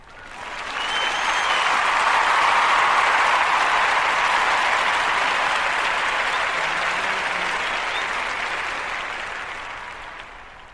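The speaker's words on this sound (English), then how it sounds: "Let's give a round of applause here." A recorded applause sound effect played during a podcast, a full crowd clapping that swells in, holds steady for several seconds and slowly fades away.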